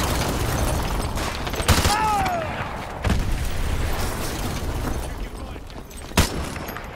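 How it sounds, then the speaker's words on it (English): Explosions and gunfire in the video game Call of Duty Modern Warfare: sharp blasts near 1.7, 3.1 and 6.2 seconds over a rumbling battlefield bed, with a whistling whine and some voices. "Those explosions are going to attract a lot of attention"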